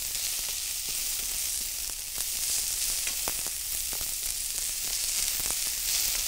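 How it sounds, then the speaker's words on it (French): Onion sautéing in hot avocado oil, a steady, bright sizzle with faint crackles, close and continuous, no voices. "Je commence à faire sauter mon oignon."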